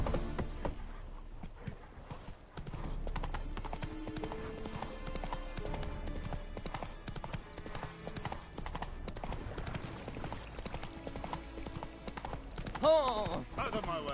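A game horse named Roach trots with steady clip-clop hoofbeats under a player's voice, game music and effects. A brief whinny sounds near the end.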